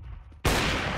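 Gunfire erupts in a Counter-Strike match on Gamers Club: after a quiet half second, a sudden loud, dense burst of rapid shots runs continuously to the end.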